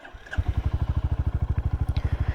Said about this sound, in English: Starts right up, engine's ice cold.